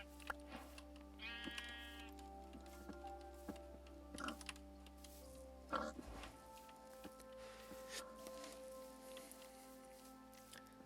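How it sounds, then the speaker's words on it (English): Gray sheep in the Minecraft 1.18 video game bleating a few times over steady in-game background sound, with no talking. "Oh, here's a sheep right here. Gray sheep are my favorite."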